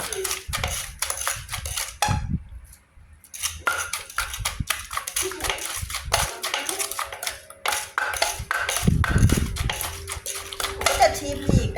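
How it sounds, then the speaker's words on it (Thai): Pestle pounding som tam, Thai papaya salad, with fermented fish pla ra in a mortar: steady rhythmic knocks with a clattering, utensil-like sound. They run through most of the stretch and pause briefly near the start. "เติมปลาร้าแล้วเราก็โขกต่อเลยนะคะ"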